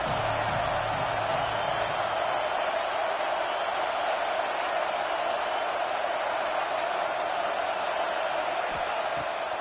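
Stadium crowd in NCAA 26 college football, Wake Forest against NC State, a dense, continuous roar of cheering at the red zone, loud and sustained throughout.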